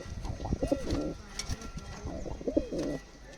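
Soft pigeon coos in two short bursts, close by, with faint rustling and low background noise between them.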